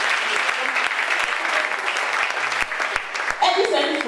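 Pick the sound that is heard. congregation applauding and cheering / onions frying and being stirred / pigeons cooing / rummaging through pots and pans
congregation applauding and cheering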